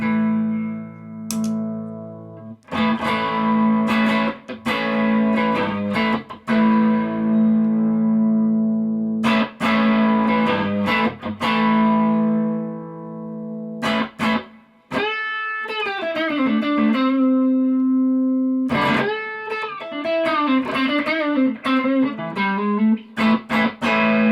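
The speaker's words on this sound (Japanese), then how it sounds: "クリーンミックスを右に回していくと歪みの成分が減りまして、ちょっと音量も下がってくるので、そこはねボリュームを触りながらちょっと弾いてみます" Electric guitar played through a SONICAKE T&T dual TS-style overdrive pedal, clean mix raised and volume adjusted: loud overdriven chords ring out and decay, then distorted single-note lines and bends, alone with no talking.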